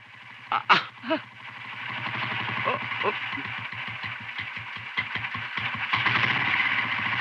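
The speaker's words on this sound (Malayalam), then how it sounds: "ഈ മോട്ടർ ഒന്ന് ഓടിച്ചു എന്ന് വെച്ച് നിനക്കെന്താ" A motor engine runs with a steady low, even hum and faint rhythmic pulsing, heard throughout at moderate volume beneath people talking, with a few brief knocks and clatters early on.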